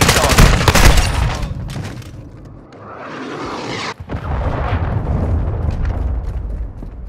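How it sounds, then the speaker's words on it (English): A cruise missile strike and gunfire in Call of Duty: Modern Warfare II, heavy bursts of shooting followed by a rushing roar and booming impact, with rumbling battle noise continuing after. "Friendly cruise missile approaching target."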